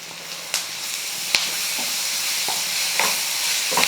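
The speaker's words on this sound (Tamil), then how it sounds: "இஞ்சி பூண்டு பேஸ்டெல்லாம் நல்லா வதங்கிடுச்சு" Ginger garlic paste sautés with onions in a pan for country chicken fry, a steady sizzling hiss with occasional faint clicks of a stirring spoon, close and alone.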